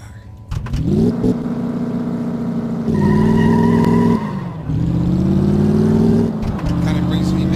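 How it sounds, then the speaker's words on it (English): Engine of a car in Car Mechanic Simulator 2015 driving a test track, revving in loud surges with gear-change dips and steady acceleration, alone without talk. "let's go for a ride on the test track in my little car here"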